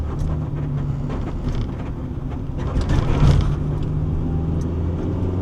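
Interior of a manual Acura Integra DC4 driving in Southern California traffic, with a steady low engine and road rumble throughout and a brief louder swell of passing noise near the middle.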